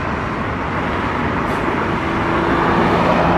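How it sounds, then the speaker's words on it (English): A Toyota Supra speeds past on a city road near a bridge, a loud steady roar of engine and tire noise building slightly over a few seconds amid traffic, with no talking. "Supra speeding by"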